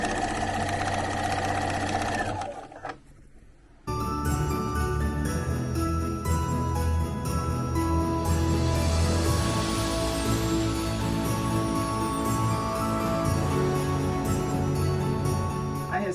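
A sewing machine stitching Chenille-It strips down onto a quilt panel runs steadily and fairly loud at close range, stopping briefly for repositioning near the start and then continuing as one long unbroken hum.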